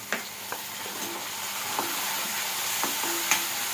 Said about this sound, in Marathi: जिरी, मोहरी, कांदा, लसूण, कढीपत्ता व्यवस्थित परतून घ्यायचं आहे